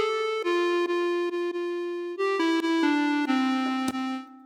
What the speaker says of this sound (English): This is my absolute favorite preset from here called Broken Beauty.